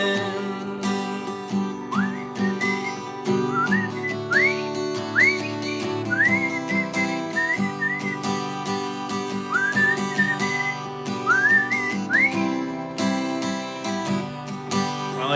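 A person whistles a melodic tune in a run of rising, sliding notes and short phrases, clear and steady over a continuous bed of background music.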